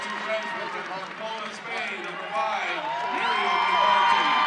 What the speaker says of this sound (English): you can hear the crowd behind us